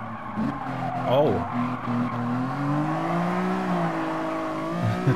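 Race car taking a tight corner in Gran Turismo Sport, with steady engine drone and a brief tire squeal as it turns, a voice talking over the game sound throughout.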